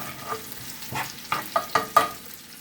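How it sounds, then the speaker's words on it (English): Chopped garlic sautés in a pan over medium heat, a soft sizzle under several sharp scraping stirs that come in quick succession near the end, close and without any voices. "the chopped up garlic. And just let this saute on medium"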